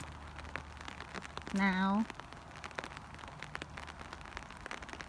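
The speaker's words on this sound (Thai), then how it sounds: "ฝนตก" Rain patters steadily on surfaces outdoors near a mountain viewpoint as a soft, continuous drizzle of light drops, with a brief spoken word partway through.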